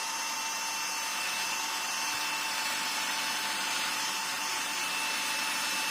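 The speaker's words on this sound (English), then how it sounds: "I'm going to get some of these holes drilled in here now" A steady, high-pitched whirring drone runs continuously without pause as a small power drill bores holes in a plastic box up close.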